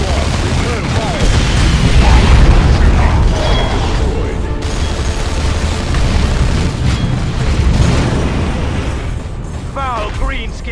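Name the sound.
grenade explosion in Dawn of War 2 video game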